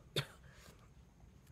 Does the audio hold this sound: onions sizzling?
no